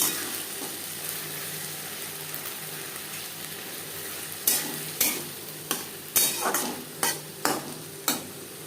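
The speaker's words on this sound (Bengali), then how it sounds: "দু তিন মিনিট নাড়াচাড়া করে নেওয়ার পর দিয়ে দেবো মাছের তেল" Silver carp fish oil frying in a pan, a low steady sizzle under repeated sharp scrapes and clinks of a spoon stirring against the pan in the latter half, with no talking.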